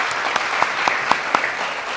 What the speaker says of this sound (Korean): 박수로서 환영 부탁드리겠습니다